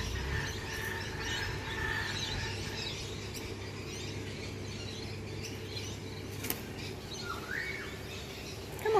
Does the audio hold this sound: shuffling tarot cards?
no